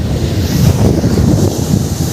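Fast-flowing water and waves at Alleppey Beach in Kerala, a loud, close, continuous rush of surf with heavy wind buffeting the microphone.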